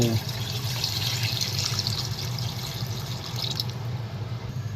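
Water pours steadily into a cooking pot for barracuda fish soup, a continuous close trickling splash running evenly throughout, with a low hum beneath and no speech.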